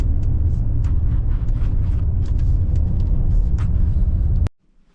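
A 2022 Toyota Tundra CrewMax Limited 4x4 pickup on BF Goodrich KO2 tires drives on snow in two-wheel drive, a loud steady low rumble of engine and tires with crunchy textured noise, cutting off abruptly near the end.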